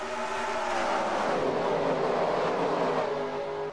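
Pack of NASCAR stock cars in the NASCAR Racing 2003 video game taking the green flag at Las Vegas Motor Speedway, a loud, continuous roar of many engines blending into a dense wash that holds steady throughout.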